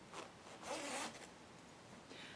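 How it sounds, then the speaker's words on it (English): A jacket zipper is pulled up in a couple of quick, close zipping strokes, with a faint rustle of fabric in a quiet room and no talking. "I'll just zip up the jacket to show you guys"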